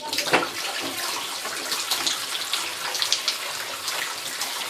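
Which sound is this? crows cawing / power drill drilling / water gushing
water gushing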